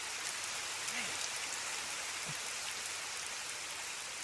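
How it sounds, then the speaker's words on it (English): Rain in the Lost Odyssey video game falls as a steady, close hiss of drops that stays even throughout, with no talking. "Oh, great. It's raining."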